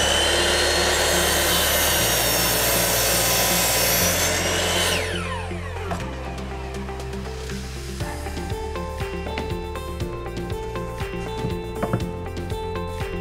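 A power saw cuts through timber for hexagon wall shelves, a loud continuous whine for the first few seconds that then drops into a rougher, rhythmic grinding and clicking as the blade works through the wood.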